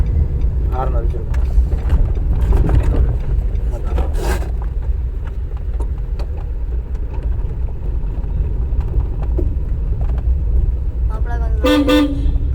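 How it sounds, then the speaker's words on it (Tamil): A car horn toots near the end during a driving lesson in a car, sounding in a short cluster of honks over steady engine and road rumble, with people talking throughout. "ஹார்ன் அடிச்சிருக்கோம்."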